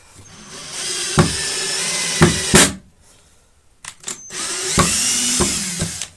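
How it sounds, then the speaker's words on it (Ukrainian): Tekhmann TCD-60/i20 cordless drill driving a screw, with two long steady whirring runs split by a short pause and a few sharp clicks and knocks, loud and close, with nobody speaking. "шуруп сам залазить"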